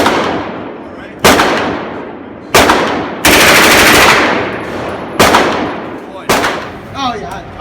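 Gunfire at a shooting range rings out as six loud, sharp reports spaced about a second apart, each followed by a ringing decay, with faint voices between shots.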